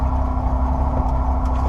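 A 1971 GMC Suburban old truck engine idles along steadily in first gear, a continuous low mechanical drone with an even rumble, close and moderately loud with no voices.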